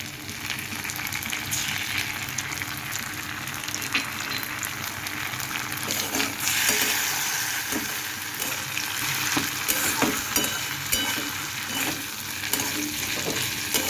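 Bitter gourd with poppy seeds is stirred in a pan, a constant frying sizzle overlaid with repeated scraping and clacking of a spatula, fairly close and busy throughout.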